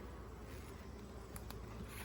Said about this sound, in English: A lot of bees on this end.